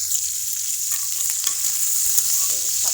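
Pumpkin greens and other leafy greens fry in a pan with a steady close sizzle and light stirring scrapes, heard alone with no talk.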